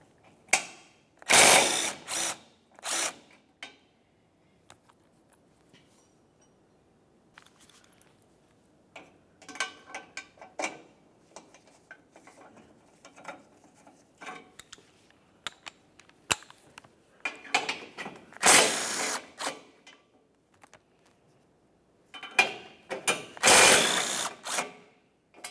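A ratchet wrench loosening 12mm bumper bracket bolts on a 2006-2011 Honda Civic, with bursts of rapid clicking separated by quieter handling, close and loud, with no talking.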